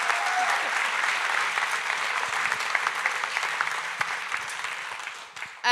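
An audience at an anti-establishment gathering gives a round of applause for Chloe, a full, sustained burst of many hands clapping that fades slightly toward the end before a brief sharp sound.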